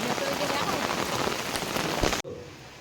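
Steady rain pours and patters on a surface, loud and continuous, then cuts off abruptly near the end; a voice may be faintly present.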